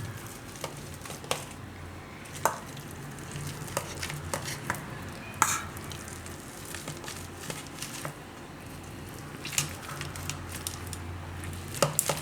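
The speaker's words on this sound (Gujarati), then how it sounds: "તો આને આ રીતે છૂંદો કરી લેવું." Boiled, peeled potatoes being mashed by hand for a paratha filling, giving soft squishy, squelching presses in an irregular steady rhythm, close and quiet.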